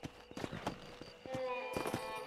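Horse hooves clip-clopping at speed in Red Dead Redemption, a quick rhythmic patter with a brief whinny, heard close alongside someone speaking.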